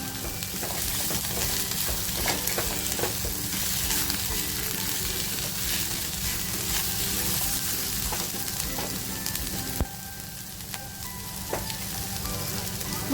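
Capsicum and green chillies fry in a pan for prawn chilli with a dense, continuous sizzle and crackle. Faint stirring scrapes sound over the hot oil, and no one speaks.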